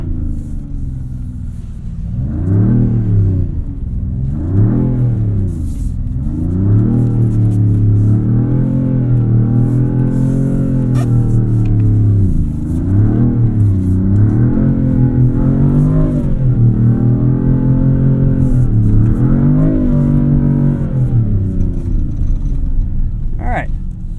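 A 2026 Dodge Charger Scat Pack Plus AWD engine drones steadily through a snowy slalom, rising and falling in pitch as it revs and settles through each turn, loud and continuous throughout.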